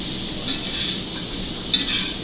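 Crawfish étouffée with roux stirred and sautéing in a pot, a steady close sizzle with soft scraping of the spoon and a brief clink near the end.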